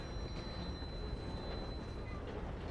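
A train rolls past in the video game Red Dead Redemption 2, giving a steady, rumbling roll of wheels and cars with a thin metallic squeal riding on top, fairly quiet and unbroken throughout.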